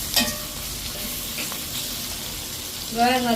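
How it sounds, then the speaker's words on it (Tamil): Tomatoes and onions sauté in a pan with a steady, fairly quiet sizzle, and a few stirring scrapes come at the start and end. "தக்காளி பழமும் வெங்காயம் வந்து வதங்கிட்டு லைட்டாக தான் வதங்கணும்."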